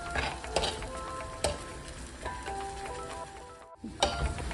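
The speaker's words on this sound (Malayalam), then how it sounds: "ഇത് ഈ എണ്ണ തെളിഞ്ഞ് വരുന്നത് വരെ വഴക്കണം." Masala paste sizzles in hot oil for a fish curry, a continuous close frying hiss broken by the scrape and clink of a stirring spoon against the pan.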